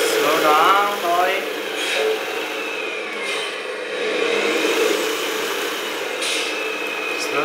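A HUINA Kabolite 1/14 6x6 hydraulic RC dumper in low speed gear gives a thin, steady electric motor whine with gear rattle. Someone talks over it now and then.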